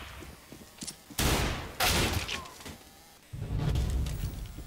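Pistol fire in CS:GO: two loud, sharp shots about half a second apart, each with a short crackling tail, set among quieter game sounds and a low rumble.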